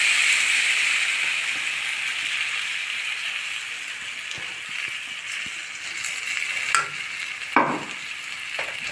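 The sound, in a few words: roasting beaten rice flakes with peanut powder in a pan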